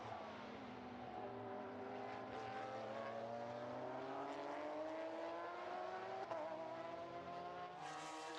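Classic Porsche race cars of various generations lapping at a historic racing meeting at Estoril, a continuous distant engine drone with rising and falling pitches as cars pass, steady and fairly faint throughout.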